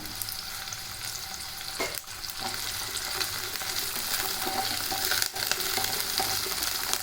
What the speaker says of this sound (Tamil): வெங்காயம் வந்து பார்த்திங்கன்னா நல்லா ஓரளவு வதங்கி வந்துச்சு